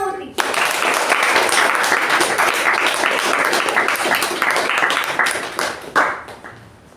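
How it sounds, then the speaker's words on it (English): A church-free hall of Toastmasters bursts into a huge round of applause welcoming the MC, with dense, steady clapping from many hands that starts abruptly. It swells and then tapers off toward the end. "With a huge round of applause, please join me in welcoming our MC, Toastmaster Lalana."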